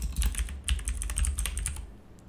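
Rapid bursts of typing on a computer keyboard, close and crisp, with a short pause and then a steady run of keystrokes that trails off.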